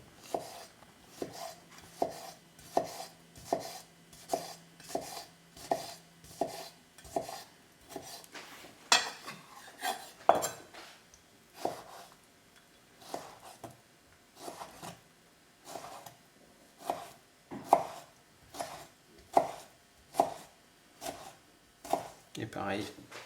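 A kitchen knife chops a seeded tomato into small cubes on a board, sharp rhythmic taps in steady bursts with brief pauses, close and clear, alongside occasional scraping.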